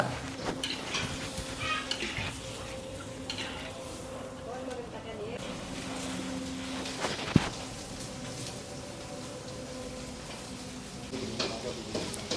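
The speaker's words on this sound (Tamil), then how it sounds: "சட்டியை வச்சு எண்ணெயை ஊற்றி பார்த்தீங்கன்னா வெங்காயம் போட்டிருக்காங்க சின்ன வெங்காயம்" Small shallots and dried red chillies fry in oil in a pan at a roadside dhaba, a soft sizzle with stirring and utensil clinks running under steady talk and busy background noise.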